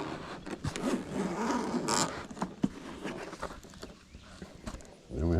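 The double zippers on a carrying case for a Veeniix V11Air drone are pulled along in short, scratchy runs, with handling noise and a final zipping stroke at the end.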